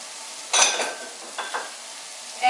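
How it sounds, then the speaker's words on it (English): Cooked polenta is stirred into about 1.5 cups of hot salted water in a pot over medium-high heat, with a few close scraping, sloshing strokes separated by pauses. "you just want to stir this together."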